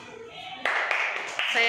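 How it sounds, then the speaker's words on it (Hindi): Children in a classroom clapping for a boy named Mudassir, a short burst of close applause starting abruptly and continuing under voices. "तालियां बजाओ मुद्दस्सिर को"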